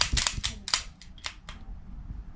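Gunshots at an outdoor shooting range during rifle sight adjustment: a rapid cluster of sharp, loud reports in the first second and a half, then quieter echoing tails and ambient noise. No talk.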